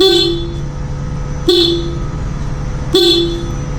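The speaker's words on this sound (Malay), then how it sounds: "bila kita tekan horn," A Honda ADV160 motorcycle horn beeps three times at regular intervals, loud and close, over a low idling engine.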